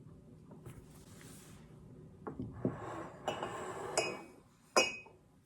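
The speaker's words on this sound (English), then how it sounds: "Next, I picked up this neat bag of art glass pieces of candy." Pieces of colorful art glass candy clink and rattle against each other in a bag, with a series of sharp glassy clinks and rustles that build toward a louder final clatter, close up and without talking.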